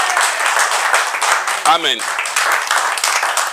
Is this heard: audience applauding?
yes